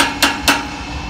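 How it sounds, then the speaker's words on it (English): A hammer strikes a threaded metal cap on a steam pan pipe being tightened for a pressure test: two sharp, close metallic knocks about a quarter second apart, alone over a quiet room background. "hit it with the hammer, make sure it's good and tight"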